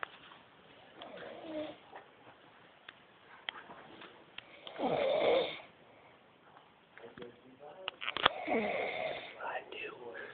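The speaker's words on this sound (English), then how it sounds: "this is proof right here that I'm about to show you that you do snore" A man snores in a few faint, rasping breaths, with one louder snore standing out, while someone speaks quietly nearby over low-quality, muffled sound.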